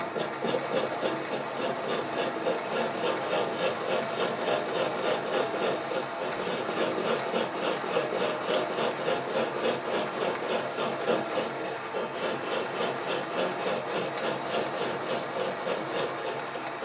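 Steady lathe machining of a cast cover for a Stuart half beam steam engine, cutter shaving the metal in a continuous rasping, whirring grind with a faint rhythmic flutter, close and even throughout without speech.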